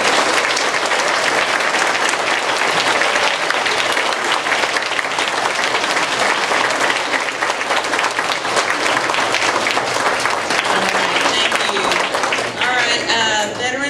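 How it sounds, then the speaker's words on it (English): An audience claps for veterans at a live performance, sustained, dense and loud applause lasting the whole stretch, with a voice and a bit of music surfacing right at the end. "turn to them and clap for them for serving our country"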